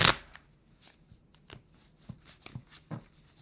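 Cards being shuffled in quick bursts, several riffles and snaps spaced irregularly, close by with no talking.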